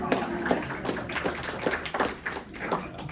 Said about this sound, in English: Everybody give each other a round of applause.